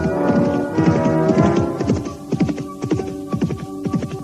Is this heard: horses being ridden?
yes